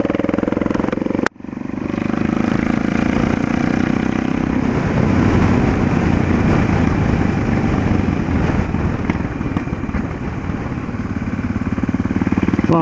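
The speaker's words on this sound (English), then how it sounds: "My exhaust is a bit loud." A loud motorcycle exhaust rumbles close by at a steady idle, deep and throbbing, continuing without a break after a sharp click at the start.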